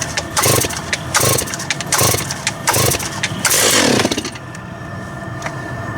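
A large Stihl chainsaw being started with choke and throttle set and the decompression valve in use: several loud rhythmic pull-start bursts, then the engine fires into a brief roaring rev before dropping to a steady idle.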